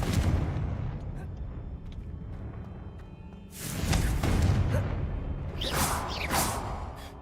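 A Confringo spell explodes in Hogwarts Legacy, a sudden loud whooshing blast partway through followed by a second burst, standing out against a lower rumbling background.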